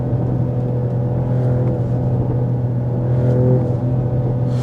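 A 2025 Mercedes-Benz GLE53 AMG hybrid with 544 hp accelerates hard from 0 to 100 km/h. Its engine drones as a loud, continuous rumble with a whirring undertone, and no one talks.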